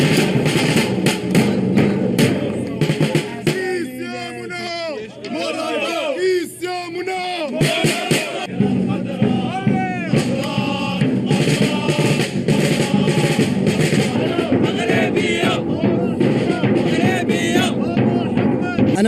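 Moroccan football supporters in Qatar, a dense, loud crowd roaring, chanting and yelling continuously, with rhythmic drumming and whistles mixed into the din.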